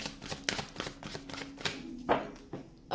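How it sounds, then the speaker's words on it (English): Tarot cards are shuffled by hand in quick riffling bursts and soft slaps, close and fairly quiet, with a sharper flick near the end. "I'm going to do one last shuffle for Pisces"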